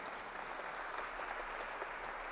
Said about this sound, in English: A round of applause for the donut workers.